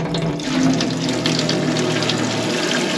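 Pink antifreeze is pumped through a catamaran's freshwater plumbing during winterizing, a steady rushing, gushing flow of liquid with a low pump hum. It continues evenly throughout, close by, with no talking.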